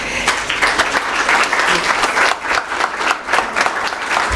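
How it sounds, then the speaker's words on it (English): An audience at a conference opening applauds as a woman receives gifts, a loud, dense, sustained wash of clapping from many hands with no break. "we also clap as she receives her gifts"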